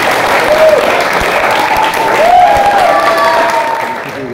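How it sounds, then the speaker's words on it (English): Sustained applause from a crowd at a boxing club event, steady and fairly loud from start to finish, with a few faint whistles rising above the clapping. "big clap for him"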